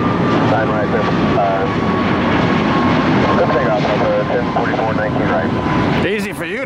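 A Delta Boeing 757 jet roars loudly on takeoff from runway 19 right, a dense sustained engine rumble close by, with speech mixed in beneath the noise and a burst of voice near the end.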